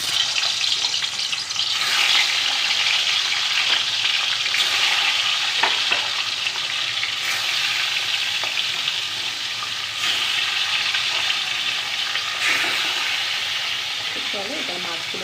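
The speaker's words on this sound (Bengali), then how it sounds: "কড়াইয়ে আমি তেল দিয়ে দিয়েছি, তেলটা আমার ভালোভাবেই গরম হয়ে গেছে। এবার আমি এর মধ্যে এক এক করে মাছগুলো দিয়ে দেবো।" Pieces of katla fish fry in hot oil in a wok with a loud, continuous hissing sizzle that holds steady throughout, surging briefly every couple of seconds as pieces are added or moved.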